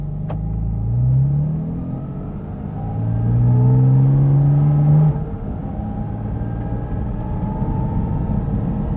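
A 2023 Porsche 718 Cayman GT4 RS engine heard from inside the cabin, revving up through rising pitch sweeps, then settling into a steady low rumble with road noise.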